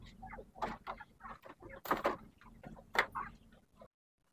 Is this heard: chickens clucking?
yes